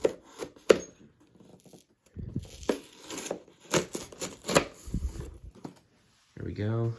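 A cardboard Lego Galaxy Explorer set box is cut open with a blade, giving scattered scrapes, tears and crinkling. Near, soft handling noises come and go, with a brief rising electronic chirp at the end.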